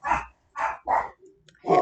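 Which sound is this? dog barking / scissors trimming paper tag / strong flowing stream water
dog barking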